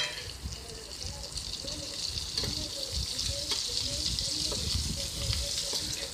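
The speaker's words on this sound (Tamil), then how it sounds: "இப்போ நம்ம அவரக்காய் கட் பண்ணி வச்சுருக்க அவரக்காய் சேர்த்துருவோம்" Cut broad beans tipped into a pan of oil with onions, frying with a steady close sizzle and occasional stirring scrapes, a faint voice under it.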